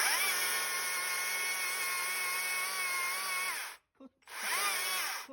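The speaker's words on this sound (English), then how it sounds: "get it in position and start sawing" A small power saw whines steadily for several seconds while cutting a step cut in a small tree trunk, briefly cuts out, then revs back up, loud and close.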